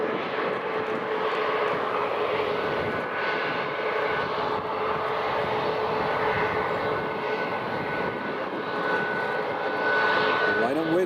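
An aircraft engine roars steadily at Newcastle International Airport, a broad continuous rumble with a faint tonal whine, loud and unbroken.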